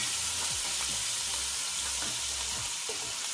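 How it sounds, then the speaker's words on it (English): Two shallots fry in a pan with a constant close sizzle, while a utensil stirs them and scrapes the pan bottom in a few separate strokes. No one speaks. "I've got two shallots. Fry that off."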